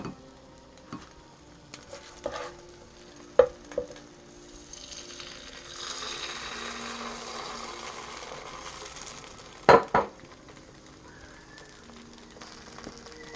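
Egg yolks and beaten egg poured into a hot pan for rice burgers, giving a soft, steady sizzle with scattered clinks and scraping of utensils, plus two sharp knocks near the end; no talking.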